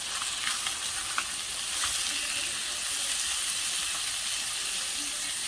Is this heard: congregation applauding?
no